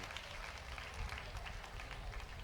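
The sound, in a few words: audience applause for the drummers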